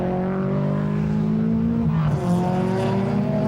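Race cars in a BMW series in New Zealand roar past on the track, a loud sustained engine drone with a noticeable pitch drop midway as one car passes close by.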